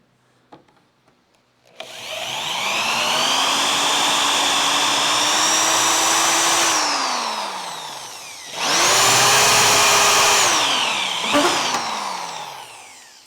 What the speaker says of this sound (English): this is a lot easier when you pilot the holes with a drill